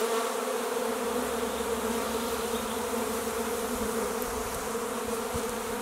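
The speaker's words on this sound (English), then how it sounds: "in case you were ever wondering what it's like to stand inside a swarm of bees, it's a little like this" A small swarm of bees pours out of a hive in bright sun, a dense, continuous close buzzing that surrounds the listener steadily from start to finish with no voices.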